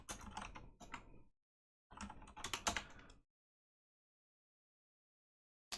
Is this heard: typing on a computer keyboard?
yes